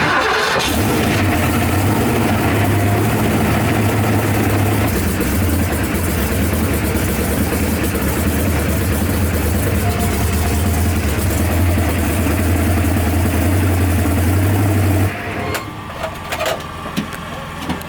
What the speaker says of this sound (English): Fuel's on, power's on, starter.